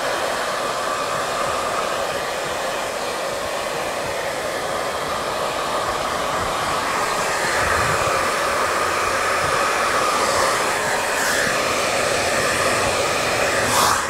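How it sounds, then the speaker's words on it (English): A blow dryer dries and styles a short haircut, with a loud, steady whooshing blast running continuously and shifting slightly in tone as it moves around the head, without any talking. "Blow dryer it helps speed up the processes"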